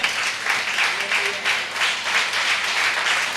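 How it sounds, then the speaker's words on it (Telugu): A church congregation claps together in a loud, rhythmic burst of applause during a lively worship service, with a few voices mixed in beneath it. "అందరూ ఆమెను చెప్పి చప్పట్లు కొడదాం"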